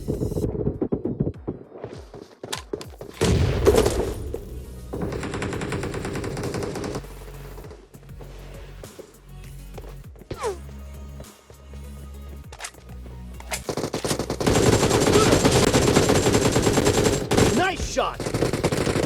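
Game gunfire in BGMI on a Realme phone, with automatic bursts and single shots crackling loudly over busy in-game sound and music, and quieter pauses between fights.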